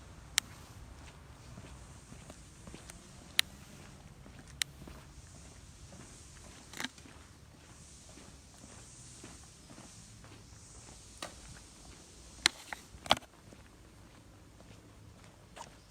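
Quiet footsteps crunch at an irregular pace through the Gatehouse at Evergreen Cemetery, Gettysburg, over a soft background hum, with a few sharp clicks scattered throughout and no voices.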